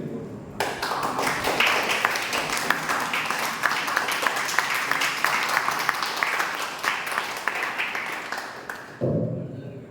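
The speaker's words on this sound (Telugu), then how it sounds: "పిల్లలందరూ వాళ్ళు గట్టిగా చప్పట్లు కొడుతున్నారు" Loud, continuous clapping from a large group of children at a spiritual discourse, dense and steady for nearly ten seconds before cutting off abruptly.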